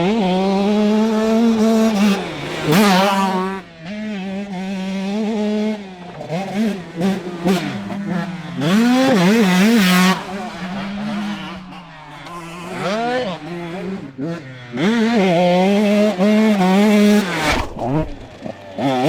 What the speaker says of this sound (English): I took a spin on the GasGas and Sean took the KTM for a rip